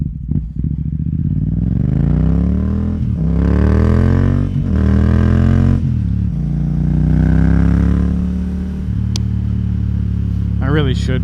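A Yamaha XSR700 motorcycle rides and turns around, its engine note rising and falling through revs and gear changes close up, while the rider talks over it.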